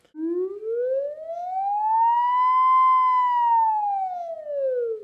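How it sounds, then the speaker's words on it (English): A pure sine tone from the Massive synth rises slowly in pitch, then falls again like a distant siren, a smooth steady sweep on its own in a build-up effect. "I use a sine wave because it sounds a lot like a siren in the background somewhere."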